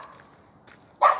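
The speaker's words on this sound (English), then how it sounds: "Don't worry about the dogs. They always bark over here" Dogs barking in a Texas neighborhood, a faint distant yip or two early on, then one sharp, louder bark near the end against an otherwise quiet background.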